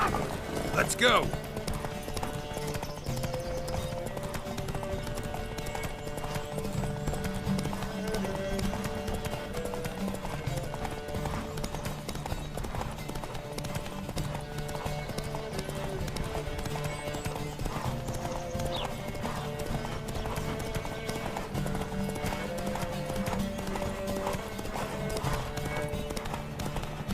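Horses galloping in a race in The Witcher 3, with dense, continuous hoofbeat clatter throughout, a brief whinny near the start, and a game music bed underneath.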